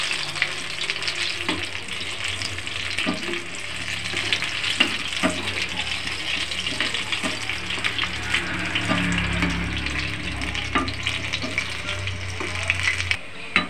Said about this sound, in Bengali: এপিট ওপিট করে ভালো করে লাল লাল করে ভাজবো বেগুনের পকোড়াগুলো